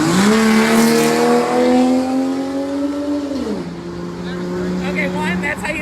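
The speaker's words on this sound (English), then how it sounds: "speaking of the cars going through in the background" Cars drive along a street in the town of Wayne, one engine loudly rising and then dropping in pitch as it passes close by, followed by steady traffic rumble.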